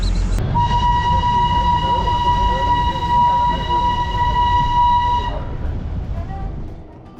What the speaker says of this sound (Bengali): বলতে বলতে ট্রেন ছেড়ে দিল